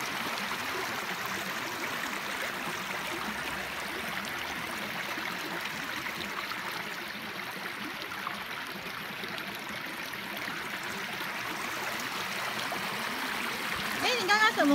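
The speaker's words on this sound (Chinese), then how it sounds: "看这个河水。" A river near Kuranda, Cairns, flows steadily, making a continuous broad rushing and gurgling wash at moderate distance that barely changes for the whole stretch.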